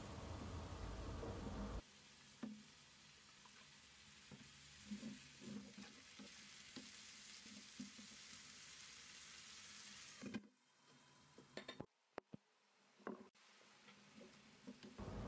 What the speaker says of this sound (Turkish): Suyu bitince de biraz sıvı yağ gezdirerek kavurma işlemine devam ediyorum.